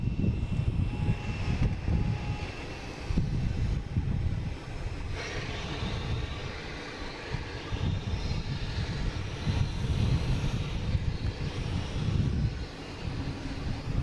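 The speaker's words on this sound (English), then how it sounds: "Next coming in is American Airlines coming from Charlotte," An American Airlines Airbus A321neo arriving from Charlotte makes a steady, broad jet engine roar that stays loud and continuous throughout, with a low rumble underneath and no voices.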